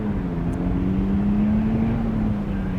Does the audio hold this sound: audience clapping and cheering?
no